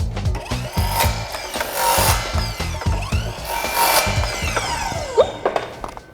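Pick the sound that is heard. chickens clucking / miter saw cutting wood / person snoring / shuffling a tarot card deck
miter saw cutting wood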